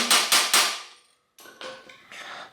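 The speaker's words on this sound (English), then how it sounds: "tap the pin in" A hammer taps a pin into the crank of a vintage Peugeot bicycle's bottom bracket: three sharp metallic strikes in quick succession, then a short pause and several lighter, duller taps.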